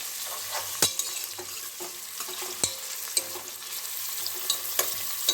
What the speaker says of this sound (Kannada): ನಾವು ಮೀಡಿಯಮ್ ಫ್ಲೇಮಲ್ಲಿ ಇಟ್ಕೊಂಡು ಚೆನ್ನಾಗಿ ಫ್ರೈ ಮಾಡ್ಕೊಳ್ಳೋಣ ಈರುಳ್ಳಿ ಚೆನ್ನಾಗಿ ಹಸಿ ವಾಸನೆ ಹೋಗಬೇಕು